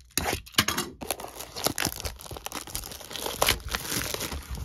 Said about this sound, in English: Let's get this blaster open.